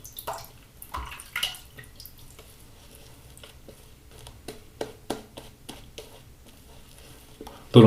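Water being worked into a shaving brush lathered with Wars Classic Polish shaving cream, soft wet squelches and drips in an irregular rhythm, close and fairly quiet, ending with a louder splash.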